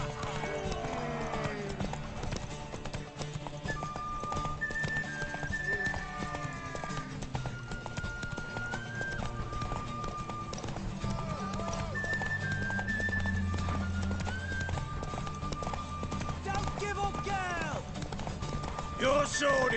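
In The Witcher 3, hooves clip-clop in a quick galloping rhythm under game music and sound effects, with voices talking over it.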